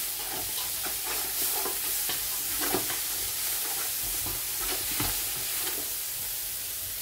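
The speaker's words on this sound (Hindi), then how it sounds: "हल्का सा चम्मच का भी चलाते जाएँ साथ साथ ताकि ये जले नहीं।" A spoon stirs dry ground coriander and other spices frying in a pan for a vegetable samosa filling, with a steady sizzle underneath. Scraping strokes sound close and fairly even throughout, and no one speaks.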